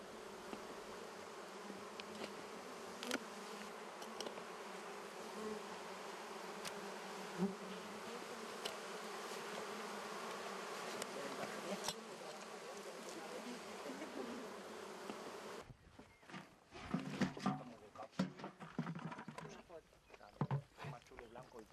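A dense buzzing of many honey bees fills the air steadily, then grows patchier and closer with sharper rustling bursts toward the end.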